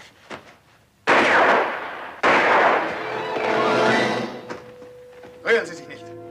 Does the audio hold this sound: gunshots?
yes